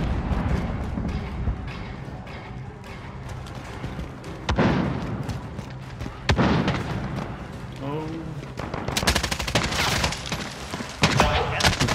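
Gunfire and rocket launcher impacts in Call of Duty: Modern Warfare, with bursts of shots and heavy booms rising and falling over about twelve seconds under a player's excited talk.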